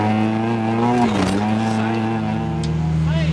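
Onboard a rally car at night, the engine holds a steady high-rpm drone above 3000 rpm with a brief dip and recovery in pitch, loud and close, while a voice talks over it.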